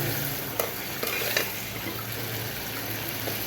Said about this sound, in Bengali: তো চিংড়িগুলো একটু ভুনা করবো